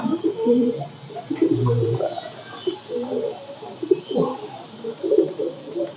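Caged Jawa Sungut doves coo in a steady run of low, rounded calls, fairly close and continuous across the whole stretch, with no talking.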